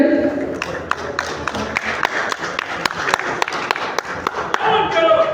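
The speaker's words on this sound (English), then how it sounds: "Let's give a big round of applause for Kelvin, ladies and gentlemen." Moderate applause from a crowd greets a pool player at a men's singles final, steady clapping with distinct sharp claps standing out over a low murmur of voices.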